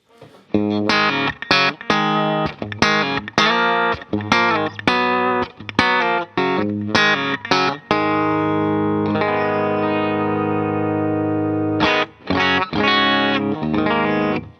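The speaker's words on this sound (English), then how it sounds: "And this is the C4 compressor, all knobs at noon." A Telecaster through a Keeley C4 four-knob compressor pedal with all knobs at noon plays snappy, even-level chord stabs and notes, with a long sustained chord in the middle, close and with no talk.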